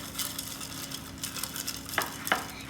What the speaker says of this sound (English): One more stir.